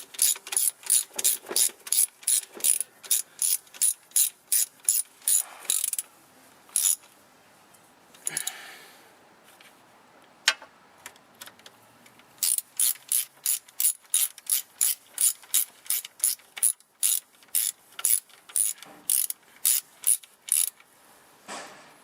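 A ratchet wrench clicks in rapid bursts as it tightens the transmission pan bolts on a 1999 Mazda Protege automatic. The crisp, close ratcheting repeats in many quick strokes with short pauses between bolts.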